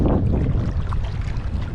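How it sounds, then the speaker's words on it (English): Gusty wind buffets the microphone while paddling on a lake, a loud, rough, steady rumble and roar that carries through the whole stretch, with no voices. "Oh, but it got a little windy"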